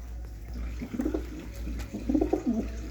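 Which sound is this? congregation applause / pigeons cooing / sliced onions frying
pigeons cooing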